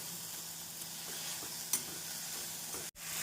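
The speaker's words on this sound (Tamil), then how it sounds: "இந்த அளவு வெங்காயம் தக்காளி மசாலாக்கள் வதங்கி வருவோம்" Onion, tomato and spices sautéing in a pan for chicken kulambu, a constant close sizzle with a scrape of the spoon midway and a brief clunk near the end.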